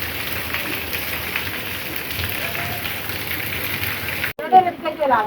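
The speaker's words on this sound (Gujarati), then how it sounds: "વરસાદ આવ્યો સારું થયું." Rain falls in a steady, even patter on surfaces for several seconds, then the scene cuts abruptly to a quieter moment with a voice speaking.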